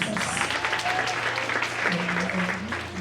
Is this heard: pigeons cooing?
no